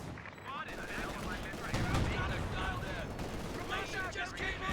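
Heavy anti-tank gun fire in a World War II-style strategy game, dense booming shots layered with rattling gunfire and explosions throughout a loud, busy battle soundscape, with voices talking over it.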